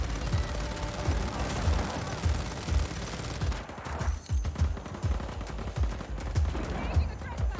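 Rapid gunfire from Just Cause 4, bursts of automatic rifle shots and heavier booms, loud and close in irregular clusters, with a few brief voices.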